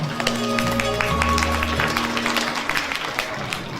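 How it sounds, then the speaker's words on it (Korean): An audience at a charity ceremony claps as a member of the national assembly walks up to the stage, with scattered claps over background music. "여러분 단상으로 모실 때 큰 박수 부탁드리겠습니다."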